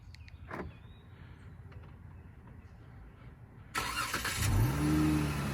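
After a few seconds of quiet background, the V6 engine of a 2011–2014 Dodge Charger cranks and fires up, rising into a loud, steady idle close by.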